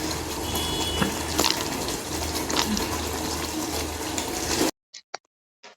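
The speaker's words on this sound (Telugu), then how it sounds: "అందులోకి ఒక చిన్న గ్లాస్ అన్ని వాటర్ పోసుకొని, ఆ మసాలా వాటర్‌ని కూడా ఈ చికెన్‌లోకైతే వేసేసుకుందాం." Masala water pours from a small glass into chicken cooking in a pan, a steady splashing gush for several seconds that stops abruptly, followed by a few faint clinks.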